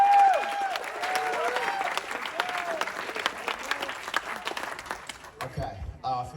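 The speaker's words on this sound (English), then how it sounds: "give a nice another round of applause to our beautiful bride and groom" Wedding guests give the bride and groom a round of applause. Dense, lively clapping mixes with cheers and whoops, and speech rises through it before the clapping fades out.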